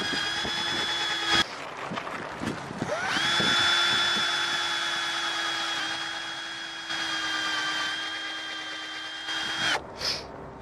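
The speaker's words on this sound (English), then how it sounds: "So we'll just drill through with the pilot hole now." An electric drill whines as it bores a 2.5 mm pilot hole for a boat's navigation light mounting, with steady high-pitched motor runs broken by brief stops and restarts, close and fairly quiet, with no talking.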